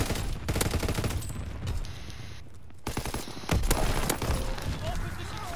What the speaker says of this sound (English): I'm shooting at all three of them, they wouldn't die